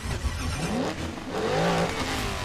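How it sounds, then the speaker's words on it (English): A Rimac C_Two electric hypercar starting up in Asphalt 9, a brief rising whine and rev that swells and settles, close and fairly loud with no talk. "Yeah, we can start up the car,"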